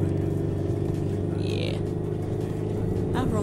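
An Alfa Romeo Giulietta engine in Euro Truck Simulator 2 drones loudly and steadily, rising in pitch as it revs, with a brief whine partway through and at the end.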